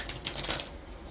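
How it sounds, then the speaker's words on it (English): A deck of large tarot cards gets a quick riffle shuffle, a close, crisp burst of papery flutter and slaps lasting about a second, with no talking. "let's go ahead and give these cards a shuffle"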